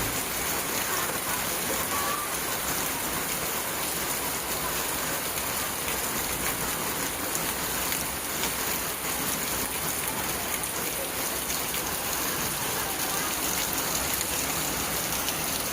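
Heavy rain pours steadily over the Konkan coast in May, a dense, continuous hiss of drops drumming on surfaces, close and loud throughout with no voices.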